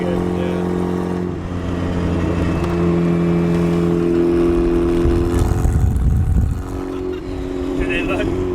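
A loud turbocharged Mazda Miata drives and accelerates, its engine droning and rising in pitch, then swelling into a rougher, louder burst near the end before settling back, heard from close by.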